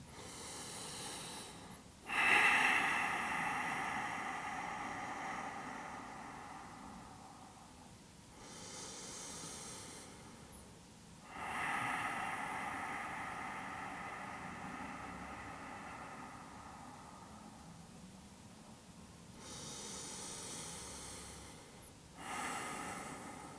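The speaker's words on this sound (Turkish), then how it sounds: "Derin birkaç nefes alıp ver." Deep breathing during a guided yin yoga session, slow, long inhales and exhales in a few cycles, each breath rising then fading, close and fairly loud with quiet gaps, no talking.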